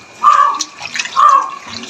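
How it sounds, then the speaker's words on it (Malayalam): Water is splashed into jackfruit seed dough while it is being mixed, heard as two short, close sloshing pours. "ഇത്തിരി വെള്ളം ഒഴിച്ചിട്ട് നന്നായിട്ട് കുഴക്കില്ല"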